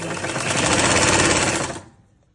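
Sewing machine stitching a sleeve onto a shirt, a loud rapid mechanical chatter that runs steadily for about a second and a half, then winds down and stops.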